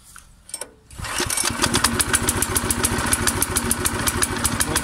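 A Forest Master FM6DD wood chipper's small petrol engine is pulled over, catches after about a second and settles into a loud, steady, chugging run close by.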